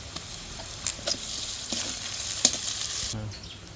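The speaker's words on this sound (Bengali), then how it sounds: "হচ্ছে আদা রসুন বাটা 1 চামচ," A spoonful of ginger-garlic paste sizzles in hot oil with fried chopped onion and dried chili, for a papaya and coconut milk curry. A steady close hiss carries scattered stirring clicks, then drops sharply near the end, with no talk.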